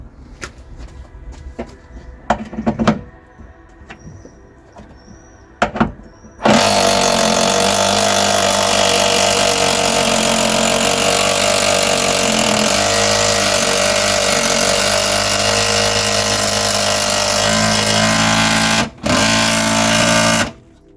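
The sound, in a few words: impact gun undoing a big 19mm bolt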